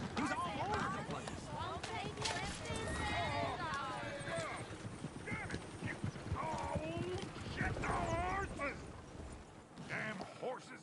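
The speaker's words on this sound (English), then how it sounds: "Damn horses!" Horses in the video game Red Dead Redemption 2 clip-clop steadily for several seconds at close range, hooves beating in a continuous rhythm with occasional whinnies, while people talk over them throughout.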